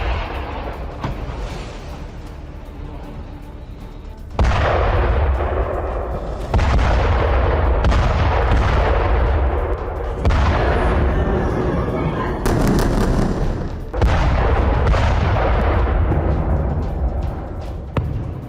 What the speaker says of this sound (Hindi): उत्तरी इजराइल में ताबड़तोड़ रॉकेट अटैक, ब्रेक करिए। लेबनान की तरफ से 25 रॉकेट दागे गए।